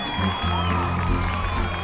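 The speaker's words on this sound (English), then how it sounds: "there was a large commotion in the crowd." Crowd commotion at an outdoor market in Ecuador, a dense mass of many voices chattering and calling out together, with steady, close crowd noise throughout and scattered shouts rising above it.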